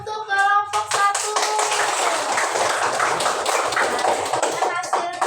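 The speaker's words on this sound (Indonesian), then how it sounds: "tepuk tangan untuk kelompok 1." Dense clapping from a classroom of students fills the room, steady and sustained, with a few voices and cheers rising briefly at the start and end.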